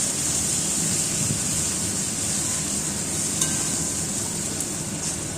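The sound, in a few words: stirring and frying spice paste for siphon fish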